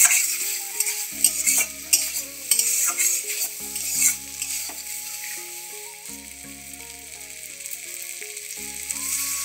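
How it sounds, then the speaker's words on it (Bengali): A spoon stirs potatoes, spices and chopped tomato frying in a pan, a steady hiss of sizzling oil under repeated scraping strokes, close and clear with no voices. "টমেটো দিয়ে আবারও ভালোভাবে নাড়াচাড়া করে নিচ্ছি। এই যে দেখেন আমার আলু মশলা সব ভালোভাবে ভাজা হয়ে গেছে।"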